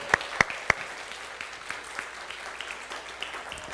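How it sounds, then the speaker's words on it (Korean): An audience at a middle-school church worship service claps for a student. Three sharp, close claps ring out first, followed by scattered, softer clapping that trails off. "박수 한번 줄까요?"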